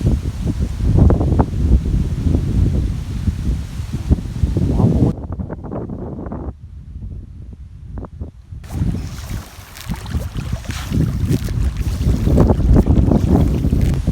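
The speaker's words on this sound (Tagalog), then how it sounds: "Sobrang lakas ng hangin dito" Strong gusts of wind buffet the microphone with loud, roaring rumbles that drop off briefly midway, then return, with faint voices underneath.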